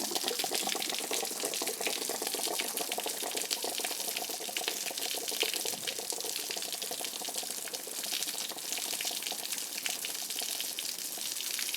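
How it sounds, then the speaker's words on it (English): Water pours and splashes steadily out of an opened pressure relief valve on an RV water heater as the tank is flushed, a constant broadband rush that stays loud for the whole stretch, with no one talking. "open this pressure relief valve, and I'm really going to stand back because it's going to pour out of there."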